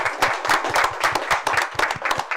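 A council meeting audience applauds together, dense overlapping hand claps forming a steady, fairly loud patter throughout with no voices over it.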